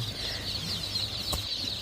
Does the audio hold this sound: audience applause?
no